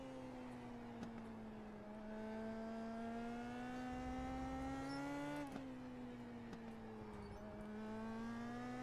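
Indy Pro 2000 race car engine in the iRacing sim, a steady high-pitched drone with clear harmonic whine that rises and falls slightly through shifts and throttle changes, loud and continuous with no talking.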